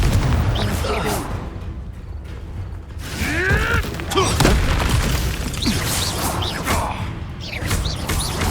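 The Confringo spell in Hogwarts Legacy goes off in a fiery blast with crackling, whooshing magic effects and rumbling booms over dense game ambience, loud and continuous.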